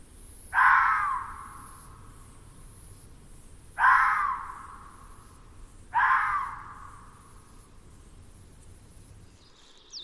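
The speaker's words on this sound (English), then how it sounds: "the crow steals the leftovers" Three loud harsh caws from a crow in high mountain wildlife habitat, evenly spaced about three seconds apart, each a rasping call with a trailing tail, over a faint outdoor background.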